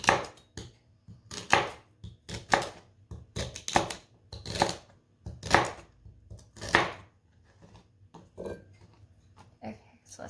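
Knife chopping celery into half-inch pieces on a board, a series of sharp, irregular cuts in quick bursts with short pauses, close and fairly quiet, no talking.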